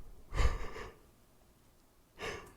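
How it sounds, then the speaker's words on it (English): A long yawn, a broad breathy burst near the start that fades after about half a second, then a second shorter exhale toward the end, close and fairly quiet. "bad time for a long yawn."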